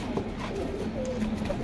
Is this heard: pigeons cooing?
yes